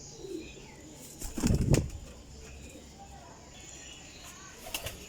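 A flock of around thirty Teddy flying pigeons in a loft, a short loud burst of flapping wings near the start, then soft cooing with a voice talking at moments.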